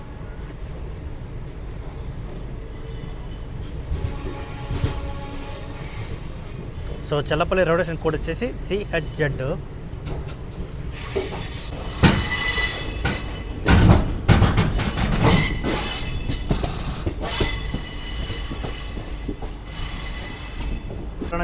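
A Cherlapalli–Chennai SF Express pulls away from Cherlapalli, its wheels squealing and screeching in loud bursts over a rolling rumble and clatter, while someone talks over the noise from onboard.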